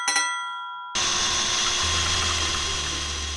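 A power drill boring out a stuck grub screw on a vehicle propshaft, a steady whirring drone that starts abruptly after a brief metallic clink and holds loud and close without speech.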